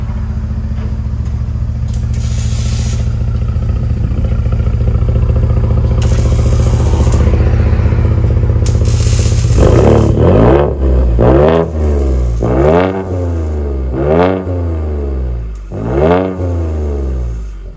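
A 2017 Ford F-150 Sport EcoBoost V6 with a Dynomax Race Bullet exhaust idles with a deep, loud drone, then fires off about five sharp, throaty revs in a row, each rising and falling quickly.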